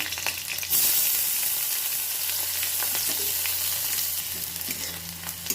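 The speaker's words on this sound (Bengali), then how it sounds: "পেঁয়াজটাকে আমি এক মিনিট ধরে নাড়িয়ে নেবো" Onion frying with black cumin and dried chillies in hot oil, a loud sudden hiss as it goes in, settling into a steady sizzle with intermittent stirring scrapes, close up.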